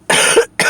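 A person with a voice roughened from illness gives two harsh, close coughs in quick succession, the first longer and the second cut short.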